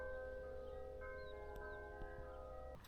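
Church bells ring about 1.5 miles off across calm, clear water at anchor near Ermioni, faint sustained tolling tones drifting steadily under a low background hum.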